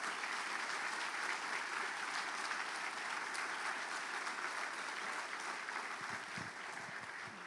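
A church congregation gives a sustained, dense round of applause during a Sunday service, loud and continuous throughout with no speech.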